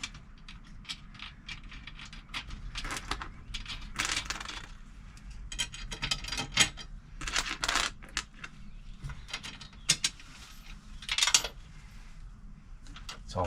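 A ratchet with a 13mm socket tightens lock nuts on a swivel base for the passenger seat of a Ford E-Series van, giving irregular bursts of metallic clicking and clinking, close by with no talking.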